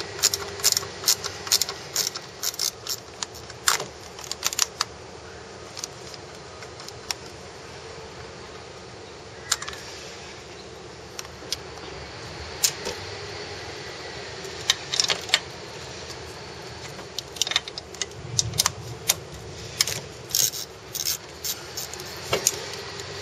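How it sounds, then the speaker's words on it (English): Sporadic metallic clicks and clinks from a wrench being worked on nuts in the engine bay of a Jeep JK during a compressor install, close and fairly loud, scattered irregularly over a low steady background hum. "Ratcheting a wrench will help you out here."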